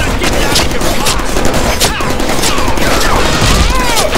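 A gunfire volley in the Deadpool video game, a dense, loud, continuous barrage of shots and crashing impacts, with voices shouting over the din.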